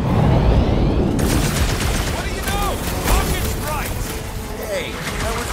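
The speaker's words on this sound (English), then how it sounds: "It's definitely those jellies from Sechnar, if I can hear their spiky things shooting out." Spiky projectiles bursting out of jelly creatures in a fantasy video game, a dense rattling barrage of shots and booms continuing throughout, with chirping creature cries and faint voices in the mix.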